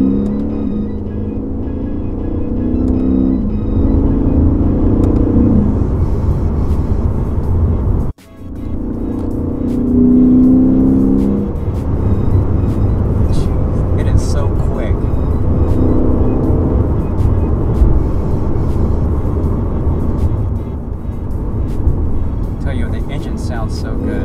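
A Lexus RC F in manual and sport mode accelerates hard, its engine a loud, sustained roar rising through the revs. Near the middle there is a brief dip where it shifts, then it pulls again. Talk is heard faintly under the engine.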